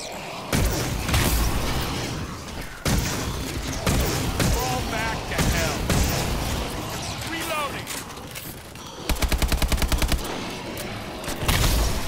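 Rapid gunfire in a zombie video game, bursts of shots and machine-gun rattle with crashes and booms, loud and continuous, with a player talking throughout.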